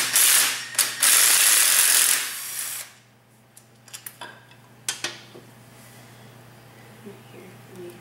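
A hand ratchet clicks in quick bursts, loosening the valve cover bolts on a Dazon Raider 150 kart engine; loud, rapid clicking runs for about two seconds, then a few sparse clinks and taps of metal parts follow.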